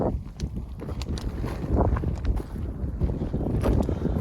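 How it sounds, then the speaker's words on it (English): Steady wind buffeting a microphone outdoors in Arizona, a low rumbling roar with gusts that swell louder toward the end. "Starting to get a little windy."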